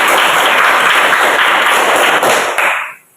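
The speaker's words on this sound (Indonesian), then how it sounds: "Baik, tepuk tangan semua." A classroom group breaks into loud, dense applause, many hands clapping together for a few seconds before tapering off and stopping abruptly.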